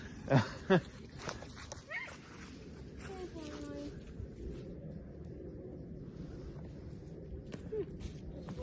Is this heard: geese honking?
no